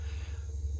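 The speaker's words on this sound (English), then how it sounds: "I also hear lots of insects out in the trees." Insects buzz and trill in trees outdoors, a steady high chirring layered over a constant low hum, brief and moderately quiet with no one speaking.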